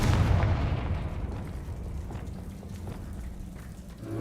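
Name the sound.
Confringo blasting spell cast in the video game Hogwarts Legacy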